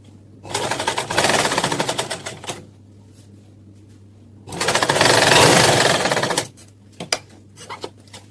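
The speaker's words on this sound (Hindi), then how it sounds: "अब सबसे पहले हम दोनों सेंटर लाइंस को मिलाएंगे और सेंटर में ही स्टिचिंग लगाएंगे।" Sewing machine stitching the centre seam of a kurta, running in two bursts of steady rapid clatter, each a couple of seconds long, separated by a short pause, close and loud with no talk.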